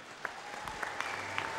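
Indoor applause from a crowd at Ponds Forge for 200 freestyle swimming champion Robbie Renwick at the 2013 British Gas Swimming Championships, steady clapping heard faintly at a distance.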